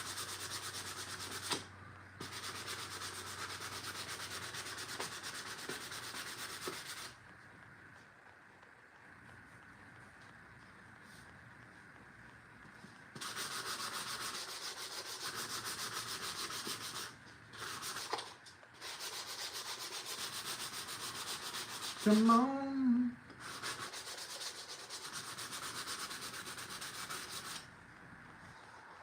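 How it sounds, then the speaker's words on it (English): Steady rasping strokes of hand sanding the edges of a wooden egg holder come in long bursts separated by pauses, close up; a voice briefly speaks once. "So right now I'm just sanding down the Edges"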